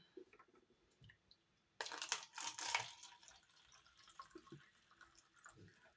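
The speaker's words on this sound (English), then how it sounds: "let's pour some more into that cup" Liquid poured into a cup for a homemade magic potion, a short splashing pour that starts suddenly, runs about a second, then trails off into quieter drips and trickles, close and fairly faint with no talking.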